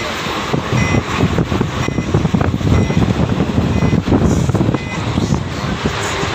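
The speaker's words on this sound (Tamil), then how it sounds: "வண்டி செம்ம ஸ்பீடாக போகுது" A bus on the road to Chennai travels fast, with a loud engine and road rumble, wind rushing past and faint repeated beeps.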